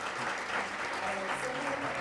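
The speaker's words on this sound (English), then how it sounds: "a big round of applause to all our panel members" Steady applause from a forum audience for panel members, a dense patter of many hands clapping continuously for a couple of seconds.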